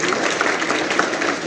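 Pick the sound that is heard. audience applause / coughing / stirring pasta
audience applause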